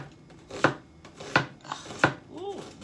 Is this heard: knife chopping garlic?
yes